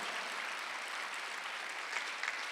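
Steady, dense clapping from a church congregation during a Sunday worship service, many hands applauding together at an even level throughout with no voices.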